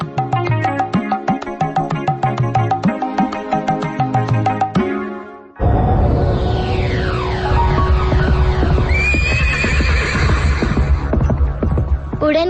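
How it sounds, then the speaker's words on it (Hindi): A horse neighs in a radio drama about a flying horse, a loud whinny with falling pitch over a steady hum, following a rhythmic musical passage. "उड़न घोड़े, आज तुम सही समय पर आ गए हो।"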